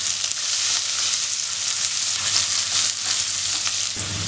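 Sliced onion sautéing in hot oil for hotel-style veg kurma, a loud, steady bright sizzle with occasional stirring, close up and with no talk.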